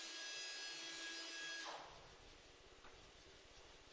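Fine sandpaper rubs sideways along electric guitar frets in a Godin factory, a faint steady scratching that shifts into a rapid rasping rhythm over a soft machine hum.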